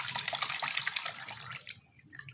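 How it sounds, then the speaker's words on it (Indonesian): Water splashes and pours while aloe vera is washed clean of its slime, a close, continuous gushing that tapers off near the end, with no voices. "Jadi kita harus buang airnya dulu ini."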